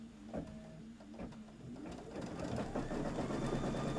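Sewing machine stitching a quilted table topper, starting with a few slow separate needle strokes and then settling into a fast, even mechanical whir of rapid stitches, close and fairly quiet with no talk.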